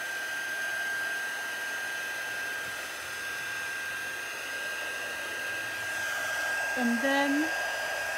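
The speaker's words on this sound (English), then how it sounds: "I'm just going to wave that around until that embossing powder begins to melt." An embossing heat tool running on its high setting to melt embossing powder, a steady close blowing roar with a thin constant whine throughout, and a brief voice near the end.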